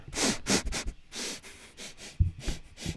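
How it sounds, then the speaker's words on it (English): A person sniffs close to the microphone in a series of quick sharp inhalations, bursts of breathy sniffing separated by short pauses. "I'm sniffing, right? I'm sniffing it."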